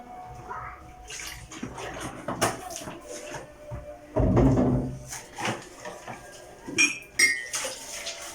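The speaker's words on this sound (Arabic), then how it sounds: "وهبدا بقى ايه ادعك الكوبايات بتاعتي" Drinking glasses are scrubbed by hand with Pril dish soap and running water at a kitchen sink, with splashing, clinks and knocks of glass and cutlery, and a louder burst of water midway.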